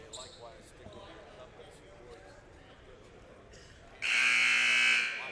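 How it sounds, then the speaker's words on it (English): A loud electronic buzzer sounds for about a second at a men's college basketball game in a gym, following a stretch of crowd murmur and commentary. "There's the buzzer"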